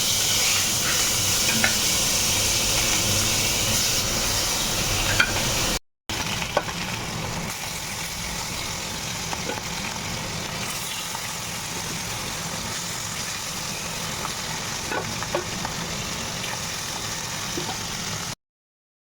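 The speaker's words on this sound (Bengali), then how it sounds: "এর মধ্যে ইলিশ মাছটা বেগুন দিয়ে করবো আর না ভেজে তো করতে পারি না মাছ" Hilsa fish frying in a large wok, a steady broadband sizzle running continuously at close range with a brief dropout, no voices present.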